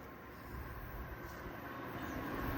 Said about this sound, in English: Well, it's a train.